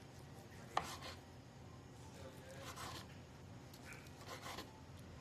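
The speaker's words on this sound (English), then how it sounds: "I'm gonna use the Beyond sausage, which I found at Kroger recently. So I'm just gonna chop that." A knife chops Beyond sausage on a cutting board during vegan lasagna prep, a few soft, scattered cuts with one sharper knock, quiet against a low background hum.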